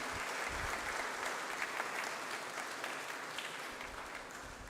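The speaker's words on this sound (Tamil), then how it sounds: "அவங்களுக்கெல்லாம் நம்ம ஒரு பெரிய கைத்தட்டை கொடுப்போமே" Steady audience applause at a church feast of Our Lady of Fatima, given for the volunteers: a broad, continuous wash of clapping that holds at an even level throughout, with no voices standing out.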